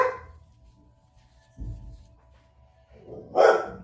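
A dog barks at the garbage man, a few short, separate barks heard indoors at moderate distance, with quiet gaps between them.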